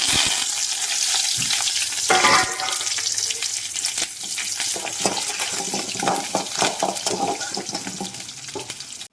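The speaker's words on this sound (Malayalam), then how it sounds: "അതിലേക്ക് 4 ചെറിയുള്ളിയും 2 വറ്റൽ മുളകും കുറച്ച് കറിവേപ്പിലയും ചേർത്ത് കൊടുക്കാം" Loud crackling sizzle of shallots, dried chillies and curry leaves frying in hot oil, close by, with sputtering pops and stirring scrapes throughout.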